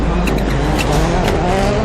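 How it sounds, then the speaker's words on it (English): A pack of ten rallycross race cars, a Subaru among them, charges off the start toward the first corner, with loud, dense engine roar and tyre noise running continuously throughout. "Ten cars barrel towards the first corner."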